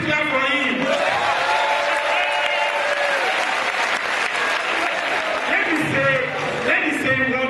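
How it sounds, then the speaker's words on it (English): Audience applause for a guest at a gathering, sustained clapping from a crowd running steadily through the whole stretch, with a voice speaking over it and sound equipment adding ringing tones. "please clap for him."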